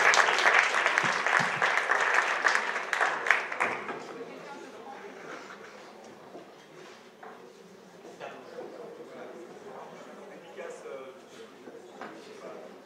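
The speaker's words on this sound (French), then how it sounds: "Merci à eux, on peut les applaudir" An audience applauds at a school sports championship trophy ceremony. The clapping is loud for the first few seconds, then fades into low murmuring and room noise.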